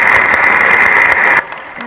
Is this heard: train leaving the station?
no